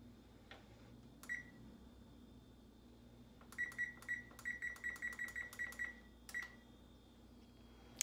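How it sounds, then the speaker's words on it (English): Stove timer being set in a home kitchen while bread dough rises, a few single beeps followed by a quick run of short, evenly spaced electronic keypress beeps and a final beep, fairly quiet against a low background hum. "So I'm gonna set the timer on the stove"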